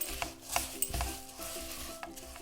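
Dry-roasted puffed rice is stirred into hot sugar syrup in a pan for chikki, with soft scraping and rustling of a spoon, a few light clinks, fairly quiet and close.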